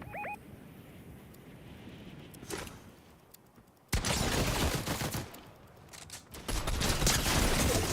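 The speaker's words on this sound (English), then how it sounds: "I want to try the shotgun out." Shotgun fire in a first-person video game: a sudden loud broadband blast mid-clip, then dense sustained crackling gunfire and a second heavy burst, close and noisy, after quieter ambient clatter.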